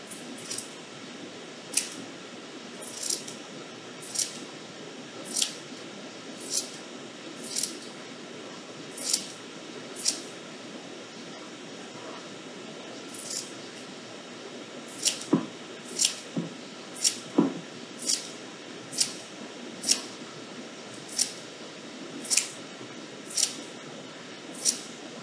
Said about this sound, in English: I'm going to cut the strips